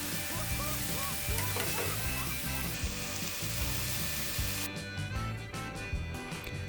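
Skirt steak sizzling loudly on a griddle right after being flipped, a dense, steady hiss heard up close throughout, with faint clinks of a tool.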